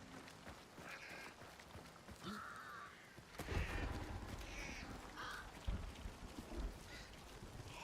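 Several crows caw in the video game Forever Winter, their faint, scattered calls repeating over a soft background of rain and low rumble.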